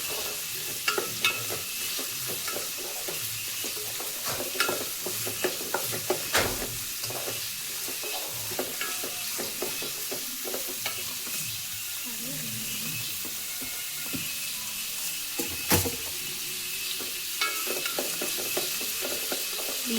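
Onions sautéing in a pan for a mushroom curry made with locally gathered mushrooms: a continuous, close, moderate sizzle with frequent spoon scrapes and stirring clicks throughout.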